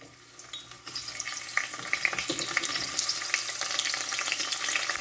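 Onions hit about five tablespoons of hot oil in a pan and burst into a loud, steady sizzle and crackle that builds and keeps going close by, with no talking.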